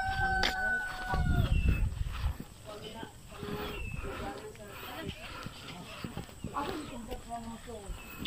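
Chickens in a rural garden in Leyte, Philippines, with rooster-like crowing and clucking calls early on, then scattered softer bird sounds while a person talks nearby.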